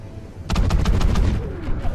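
Rapid gunfire from an underwater sequence in Call of Duty Ghosts: a loud burst of repeated shots starting half a second in, with a dense rumbling low end that trails off at the close.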